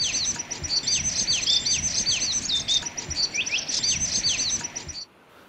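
Busy high-pitched bird calls, a red-tailed minla twittering in quick repeated chirps for several seconds before stopping abruptly, in Bhutan.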